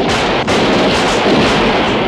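Heavy artillery fire in a battle around Potsdamer Platz, Berlin, with loud booming blasts merging into a dense rumbling roar and a brief dip before the barrage resumes.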